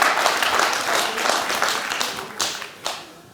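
A studio audience at a television comedy game show bursts into dense, loud applause, with many hands clapping together in a sustained roar and a few sharper claps standing out toward the end.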